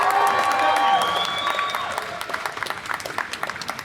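A live audience at a DEFCON 32 main stage talk cheers and applauds, a dense burst of claps and whoops that swells at first, then thins into scattered clapping.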